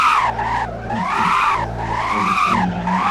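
In the video game Driving Empire, a car spins donuts with long, loud tire squeals that rise and fall in repeated sweeps over a steady engine roar.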